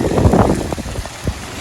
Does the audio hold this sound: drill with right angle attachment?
no